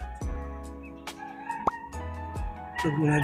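Four-month-old chicks in a backyard pen give repeated short clucks and chirps, fairly close and moderately loud, scattered over a steady low hum with no talking.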